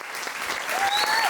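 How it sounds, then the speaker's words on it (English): An audience at a youth volunteering event claps steadily, a bright, dense wash of many hands, with a faint thin whistle-like tone rising near the end. "Please keep your applause going"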